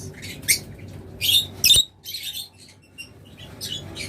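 A pair of lovebirds calling nearby, with sharp squawks and chirps in irregular bursts separated by quieter gaps, over faint background noise.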